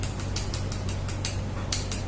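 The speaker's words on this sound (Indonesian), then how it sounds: "tombol ini bunyi kurang pas" A small plastic button with a loose, imprecise fit clicks sharply about a dozen times in a steady rhythm, close and fairly loud over a low steady hum.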